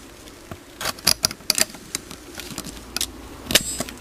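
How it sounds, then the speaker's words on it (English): Tin snips cut through bike seat cover material in a string of sharp snips and crunches, some loud and close, spread irregularly over a few seconds with no talk. "All you need to do is get your pair of tin snips"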